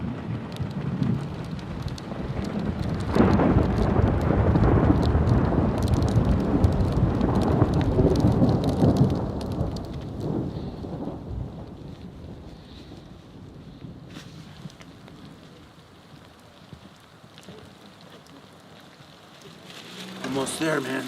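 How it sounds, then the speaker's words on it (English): A violent thunderstorm at altitude during a mountain pass crossing, with loud broadband rain and wind roar that swells through the first half, then eases to a quieter rumbling wash before picking up again near the end, with wind buffeting the microphone. "In the midst of a violent thunderstorm, we are once again reminded of the fiercest element of this battle."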